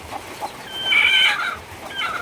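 A hen with newly hatched chicks clucks close by in a quiet home setting, a short series of soft clucks and one brief higher call.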